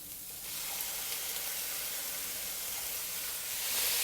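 Pork sizzling as it goes into a hot wok over medium heat for a Korean BBQ-style stir fry, a steady broadband hiss that holds evenly throughout and swells slightly louder near the end, with no talking.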